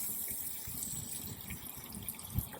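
Water rushes steadily from the outdoor shower of a Forest River Wolf Pup RV being de-winterized, a continuous hiss and splatter with low gurgles, close by.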